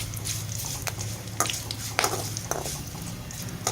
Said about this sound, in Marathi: तर बघू शकता कढीपत्ता पण छान परतला आहे